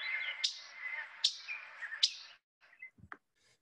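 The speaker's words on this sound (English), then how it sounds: "And then the yellow-throated warbler" Yellow-throated warbler calling outdoors: three sharp, bright chip notes spaced evenly over a softer ongoing twitter, followed by a few faint scattered notes and a brief low bump.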